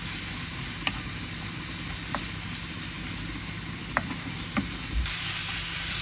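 Red amaranth greens fry in a pan with a steady, even sizzling hiss and a few faint clicks from stirring, heard alone without talk.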